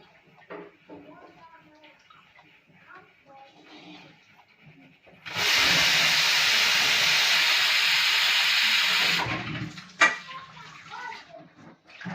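A pressure cooker cooking rice blasts a loud, continuous hiss of escaping steam for about four seconds, then cuts off, with quiet speech before and after.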